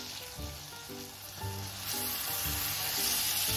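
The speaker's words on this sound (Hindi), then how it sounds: "अब इसमें हम बैंगन डालेंगे जो हमने भून कर" Roasted brinjal (eggplant) for bharta dropped into a hot tempering of spiced oil and ghee, giving a loud, steady sizzle and frying hiss that swells as the pieces go in, with no talking.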